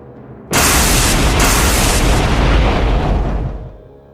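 A huge explosion of swirling energy bursts in abruptly, a loud roaring blast that holds as dense rumbling noise for about three seconds before fading out.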